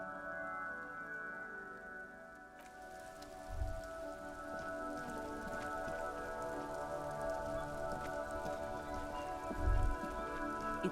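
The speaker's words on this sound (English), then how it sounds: "It's raining again." Steady rain from the game Disco Elysium falls continuously at a moderate, even level, with a low musical drone and two soft low thumps beneath it.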